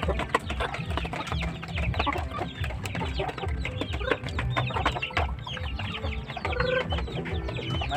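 Chickens cluck steadily throughout, a flock of gamefowl including Sama and Basilan Asil breeds feeding in the afternoon, with busy overlapping calls close by and no talk.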